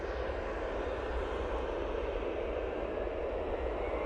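TUI Boeing 737 arriving at Manchester Airport, a steady broad roar of jet engines, moderately distant and even in level, with no talk.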